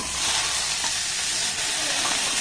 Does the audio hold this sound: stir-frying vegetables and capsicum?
yes